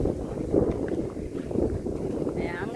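Wind blowing outdoors near mango trees, a steady rough rush buffeting the microphone at a moderate level with no talk over it.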